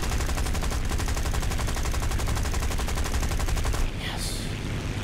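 Rapid, sustained machine-gun fire rattles loudly and continuously in the War Thunder video game for several seconds, then cuts off abruptly, leaving quieter engine and battle noise.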